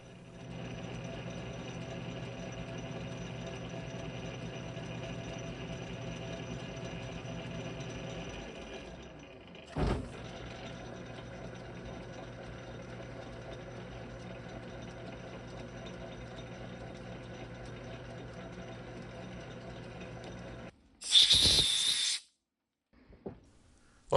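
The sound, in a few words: lathe in back gear power tapping a drive gear spacer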